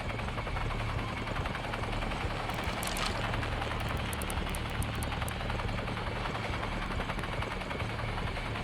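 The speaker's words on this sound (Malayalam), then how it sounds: "ഇതെന്താ ഹെലികോപ്റ്റർ?" A helicopter in a sniper video game thrums steadily and loudly throughout, its dense rotor drone filling the scene, with a few sharp gunfire-like cracks partway through.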